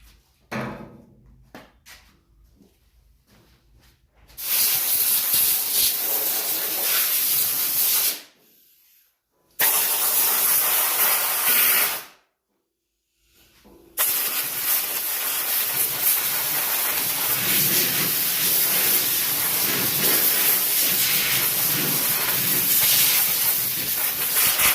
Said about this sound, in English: Where'd my air blower go?